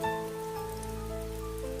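Heavy rain shower pouring steadily on a surface at night, a dense continuous hiss with scattered drop patter, even and fairly loud throughout with no voices.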